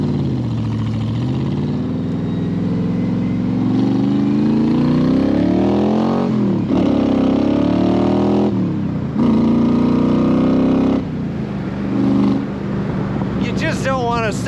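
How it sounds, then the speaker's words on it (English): A 1965 Shelby Cobra Factory Five replica's V8 revs through side pipes, its deep exhaust rising and falling in repeated loud, close throttle blips under steady talk. "Sounds amazing with these side pipes."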